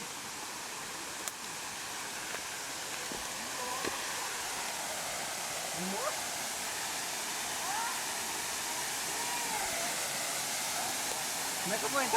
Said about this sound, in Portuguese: Vai chegando perto de cachoeira, vai esfriando